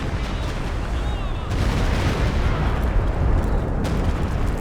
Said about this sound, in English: Oh, Stuka coming in.